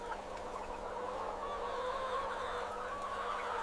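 Broiler chickens crowded inside a modern poultry farm shed, a steady, dense murmur of clucking and chirping over a constant low mechanical hum, heard without any voices.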